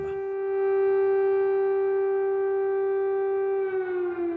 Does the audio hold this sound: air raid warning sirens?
yes